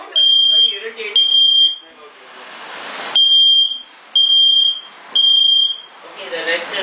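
A smoke or fire alarm beeps in long high-pitched blasts, three or four loud bursts separated by short gaps, with people talking and noise between the beeps.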